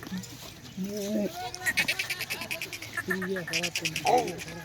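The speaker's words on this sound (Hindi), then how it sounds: "आओ यार पकड़ो बकरे को, यार बकरे को पकड़ो।" A billy goat bleats repeatedly in short wavering cries, close by, while insects buzz and people speak in the background.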